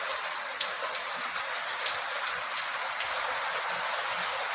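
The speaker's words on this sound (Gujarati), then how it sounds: "કેટલો આમ વરસાદ જોરદાર આવી ગયો" Heavy rain pours down in a dense, steady hiss with no gaps, and a few louder drops spatter on a surface. No one speaks.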